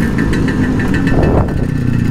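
A Vespa scooter engine runs in second gear, loud and close, its rapid throbbing beat holding steady with a slight swell midway.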